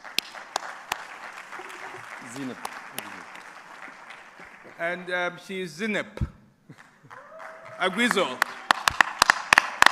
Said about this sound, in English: We want to give her a round of applause before she comes up.